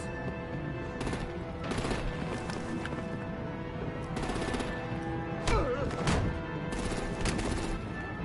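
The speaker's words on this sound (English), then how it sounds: "Break out the artillery and disable their vehicles!" Artillery gunfire rattles through a Batman video game battle in sharp bursts and single cracks, moderately loud over a humming game soundtrack.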